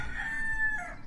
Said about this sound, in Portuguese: E o galo?